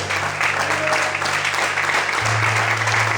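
Church congregation applauding the Lord during a Portuguese-language service, steady dense clapping throughout, with a low hum underneath.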